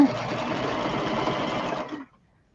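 A Singer sewing machine runs in a close, steady whirring burst of rapid stitching for about two seconds, then stops abruptly into silence.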